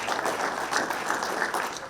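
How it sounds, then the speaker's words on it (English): Audience applause at a university baseball first-pitch dinner, a fairly soft but continuous wash of clapping that swells slightly midway and carries on without speech. "how about a round of applause for Father Joe Hubbard"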